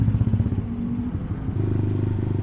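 A Yamaha MX motorcycle runs at steady idle through its stock exhaust after an engine rebuild with changed compression, a close, continuous throbbing rumble with no talk.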